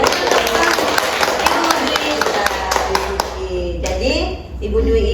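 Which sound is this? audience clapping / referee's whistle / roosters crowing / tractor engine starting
audience clapping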